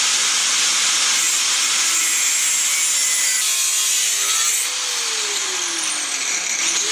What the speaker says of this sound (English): take this off and cut out a flat piece of metal for this